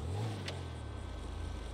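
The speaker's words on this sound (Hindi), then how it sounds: "भाई आप लोग सुनिए ना इंजन की आवाज कैसी जबरदस्त यार" A McLaren 765LT engine in the video game GTA 5 revs up in a quick rising surge, then settles into a low idle burble. It is moderately loud and heard alone.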